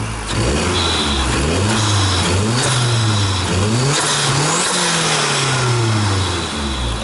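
A car engine revs repeatedly after a motor mount install, climbing and falling in several loud, close blips with a steady idle rumble between them and no talking over it.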